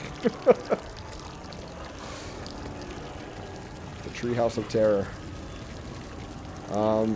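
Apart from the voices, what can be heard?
water pouring from a ceiling in video game Layers of Fear 2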